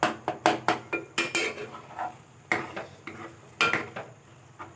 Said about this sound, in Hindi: अच्छे तरीके से मिक्स करेंगे पहले।